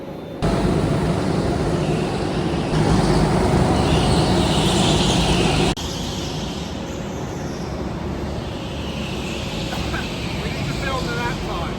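Go-kart engines drone loudly and continuously before a race, a dense rumbling roar that shifts level partway through, with voices faintly mixed underneath.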